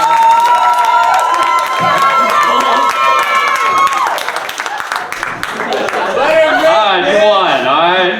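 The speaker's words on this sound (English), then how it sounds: "round of applause for Josephine" A late-night comedy show's studio audience cheers and applauds loudly and steadily throughout, with shouting voices and bright tonal sounds mixed into the roar.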